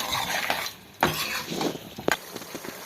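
A spoon scrapes and clanks through mutton with ginger-garlic paste in a pan, several distinct knocks over a low frying sizzle, close and clear with no talking.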